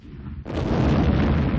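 An underground nuclear bomb of about 20 kilotons detonates in a shaft 600 meters beneath Mururoa atoll, heard as a sudden loud deep boom that swells into a sustained roaring rumble.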